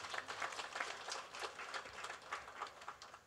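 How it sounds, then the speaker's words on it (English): Faint, steady applause from an audience at a National Day of Prayer gathering, dense overlapping claps continuing evenly throughout with no speech. "Give yourself a round of applause."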